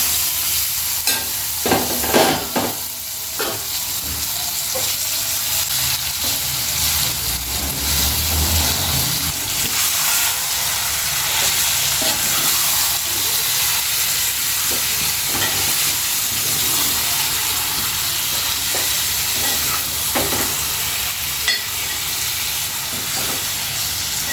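Chicken fries with onions in a pan: a loud, steady sizzle and hiss runs throughout, close up, with occasional clinks and scrapes of stirring and no talking.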